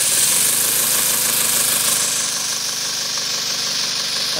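A small twin-cylinder double-acting steam engine runs on about 20 psi of compressed air from a compressor, giving a steady, close, rapid chuffing and mechanical rattle that holds even and loud throughout.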